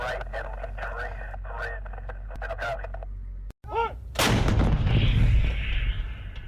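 Artillery fire mission sound effect: a radio-style voice call with a short crackling burst, then a heavy booming barrage of shell impacts that rumbles loudly and keeps going, dense and close.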